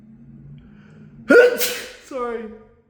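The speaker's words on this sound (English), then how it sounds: "I had to sneeze." A single loud, sudden human sneeze bursts out after a soft, breathy lead-in, followed by a brief voiced exhale, close to the microphone.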